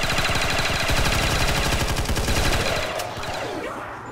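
Rapid automatic gunfire in a Roblox shooter game, loud and continuous bursts of machine-gun fire for most of the stretch, thinning out toward the end.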